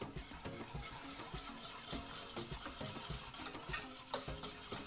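Majarete batter with vanilla extract and salt being mixed in a bowl, a steady close rasping and scraping of stirring strokes with no one talking.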